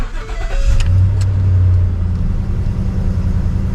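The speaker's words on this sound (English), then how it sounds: "Well, it's a gas engine, nothing wrong with that" A gas engine in a used service truck with 269,000 kilometers, heard up close and loud: a brief rev climbs and holds, then settles into a steady running hum.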